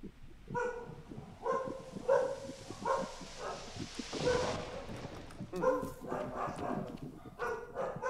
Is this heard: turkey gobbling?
no